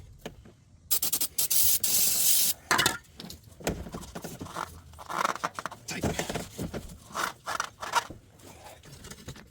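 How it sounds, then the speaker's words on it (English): Brake cleaner sprayed in repeated bursts beneath a 2020 Honda CR-V during an oil change, loud close hissing blasts of varying length with short pauses and rubbing or clattering between them. "And then just spray all this to clean it up."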